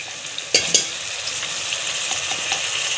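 Browned onions frying in oil with garlic ginger paste for nihari, a steady bright sizzle with a couple of spoon-stirring clatters near the start, close and continuous without speech.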